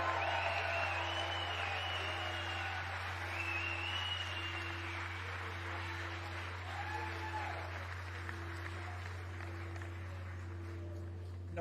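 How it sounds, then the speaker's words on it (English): Audience applause at a live political talk on the Constitution, a broad diffuse patter of clapping from a crowd, moderately loud and steady, over a constant low electrical hum, with a voice briefly audible. "Yes, let's applaud for that."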